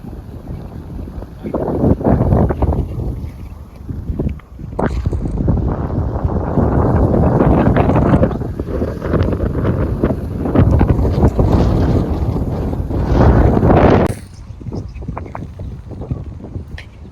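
Strong gusty wind buffets the microphone at Kalasa, a loud roaring rumble that surges and drops in waves for most of the stretch, fading near the end.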